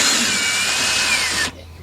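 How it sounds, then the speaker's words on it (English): Cordless drill with a 3/8 deep socket spins out a screw under a 2005 Nissan Pathfinder 4.0, a loud steady high-pitched whir that holds for about a second and a half, then stops abruptly. "with my cordless drill here"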